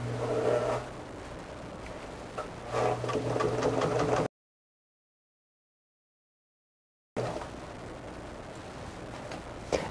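A sewing machine stitches down the middle of bias tape on a quilt, a steady mechanical hum and rattle running for about four seconds, cutting to silence, then resuming for the last few seconds.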